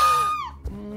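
A female character's scream from the video game What Remains of Edith Finch, a high piercing shriek that slides downward and fades within the first half second, followed by a low thump and a quiet hum.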